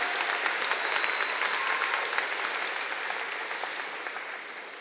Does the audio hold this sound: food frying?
no